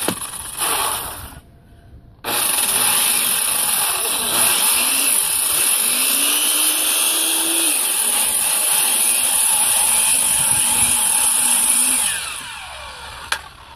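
A power saw rips through wall sheeting for an 8x12x8 A-frame shed, starting after a short pause and holding one loud, continuous whine for about ten seconds before cutting off.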